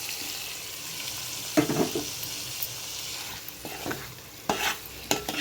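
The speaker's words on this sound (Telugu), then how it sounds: "మిక్సీ పట్టి ఇలా బ్రౌన్ కలర్ వచ్చే వరకు వేయించుకున్న తర్వాత ఈ పీసెస్ అన్నీ వేసుకోవాలి" Marinated moyya fish pieces go into a pan of browned ground onions, a soft steady fry broken by several sharp stirring scrapes and clatters, close and without speech.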